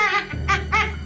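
A male Eurasian eagle-owl gives a warning call: three harsh, raspy, strained bursts close by, each breathy and screechy, separated by short gaps, over a low steady background rumble.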